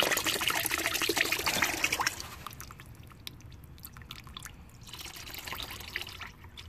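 Gasoline drains from a riding mower's crankcase that had filled with fuel, first a loud, close gushing pour that thins after two seconds into a light trickle and scattered drips.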